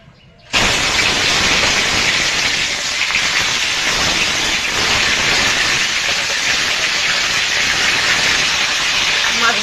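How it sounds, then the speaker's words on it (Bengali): Small pona fish go into hot oil in a pan, setting off a sudden loud, steady sizzle that bursts in after a brief quiet start and holds without pause. "তেলটা গরম হয়ে গেছে, আমি মাছগুলো দিয়ে দেবো।"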